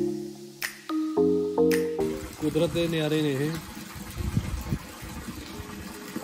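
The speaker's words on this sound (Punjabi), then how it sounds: "ਪਾਣੀ ਕਿਸੇ ਨੂੰ ਨੀ ਪਤਾ ਕਿੱਧਰੋਂ ਆ ਰਿਹਾ" Water flows and drips beside the Chambal River at Garadia Mahadev near Kota. Tonal calls sound in the first seconds, then a broad, steady wash of water continues, and voices talk over it.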